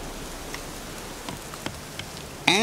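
Rain falling at night in The Witcher 3 video game, a steady soft patter with scattered drop ticks and a louder burst at the end, heard alone without voices.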